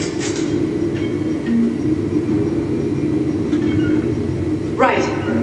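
Tram rolling along in Mass Effect 3, a steady low rumble of rail transport with faint clicks and a brief whoosh near the end, running continuously and loud throughout.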